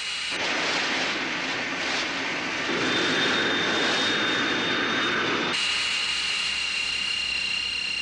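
A cartoon robot's vehicle engine whines steadily at high revs, a loud sustained roar with a thin high tone that climbs and steps up partway through, with no talking.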